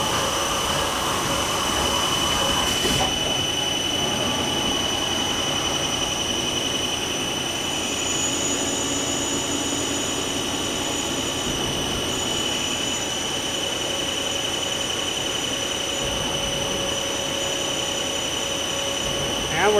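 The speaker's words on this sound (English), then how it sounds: "And we're done drilling the part." Mazak CNC lathe drilling a part, a steady high-pitched machining whine and hum with coolant-like hiss running continuously, a tonal shift early on, fairly loud throughout.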